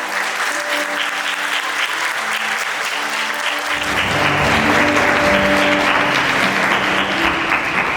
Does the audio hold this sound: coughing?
no